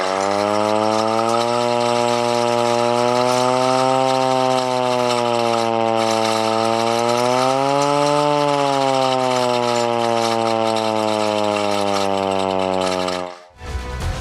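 A hand-cranked siren sounds during preparations for a civil-defence mock drill, a loud sustained wail that holds steady, rises and falls in pitch as the crank speed changes, then cuts off abruptly near the end.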